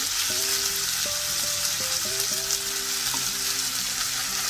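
Ginger garlic paste sizzles with minced mutton and onion in a pan for keema, a steady loud frying hiss with stirring scrapes and faint background music, no talking.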